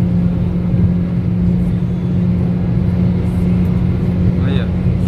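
Volkswagen Jetta 2.0 Comfortline driving downhill at speed, a steady engine drone with a strong low hum and broad road and wind noise, continuous and close, with a brief faint chirp near the end.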